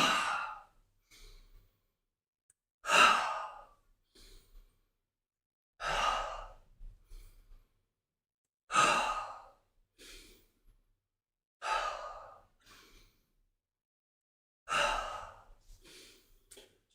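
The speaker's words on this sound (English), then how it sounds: "Once again, we can do the expelling breath." Forceful breathing exercise done at a fairly quick pace, with six strong, audible exhalations spaced roughly every three seconds, each followed by quieter inhalations, close and alone.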